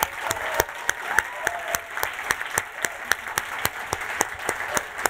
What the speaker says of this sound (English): let's give all our teams a real big round of applause.